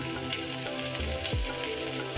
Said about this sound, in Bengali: রসুনটা দিয়ে একটু নাড়াচাড়া করে ভেজে নিয়েছি